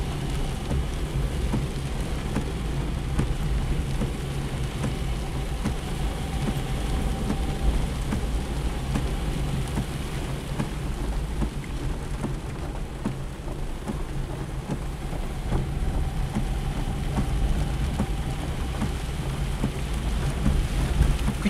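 Steady rain drumming on a Fiat Panda while driving, a dense continuous hiss over a low engine and road rumble, with faint thunder-like swells and no talking.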